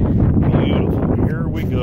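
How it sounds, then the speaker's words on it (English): Wind blows outdoors at Lake Havasu City, Arizona, as a loud, steady rumbling gust buffeting the microphone throughout. "Kind of windy today."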